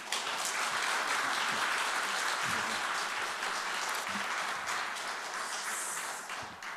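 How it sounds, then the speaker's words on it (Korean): A church congregation breaks into sustained applause to welcome a visiting missionary speaker at a Sunday afternoon service, a dense, steady clapping from many hands that fades slightly toward the end. "우리 큰 박수로 우리 환영하도록 하겠습니다"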